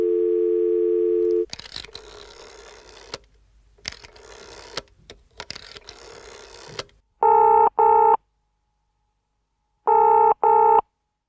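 A landline telephone call placed for a podcast: a steady dial tone, then clicks and noisy line sounds while dialing, followed by two double-burst rings with a long pause between, close and clear with no talking.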